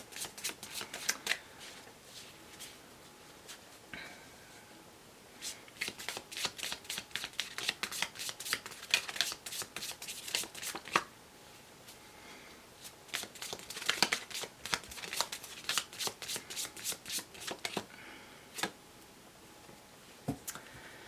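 Law of Attraction oracle cards being shuffled by hand, a long run of close, crisp riffling and slapping bursts with brief pauses between shuffles, papery and steady throughout, with no voice.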